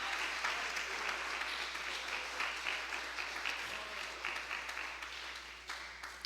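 A congregation applauds during a Portuguese-language church sermon, producing a continuous patter of many hands clapping at moderate, fairly distant loudness with no speech over it.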